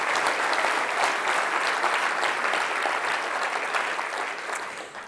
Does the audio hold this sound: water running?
no